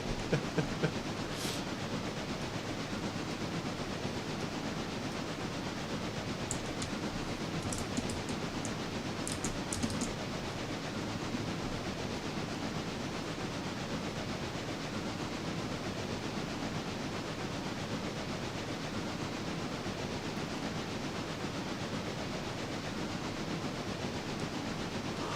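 A steam locomotive in the Railroader video game rumbles along with a steady rolling hiss and faint rhythmic chuffing, a few sharp clanks early on, and no talking.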